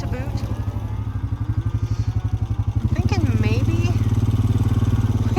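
A four-wheeler ATV engine hums steadily at close range during a ride on a farm sale day while cattle are gathered, with a throbbing low drone throughout and a brief rise in pitch near the middle.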